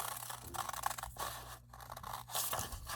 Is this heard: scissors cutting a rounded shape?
yes